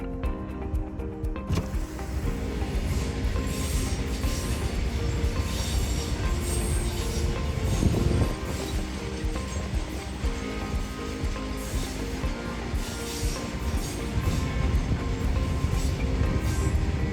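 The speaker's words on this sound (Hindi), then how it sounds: "रास्ते में ऐसे एक रेलवे क्रॉसिंग आ रहा है और गुड्स ट्रेन जा रही है।" A goods train rumbles past a railway crossing on the road from Ramdevra to Jodhpur in Rajasthan, with steady heavy wheel and wagon clatter and a brief louder surge midway, close and continuous for the whole stretch.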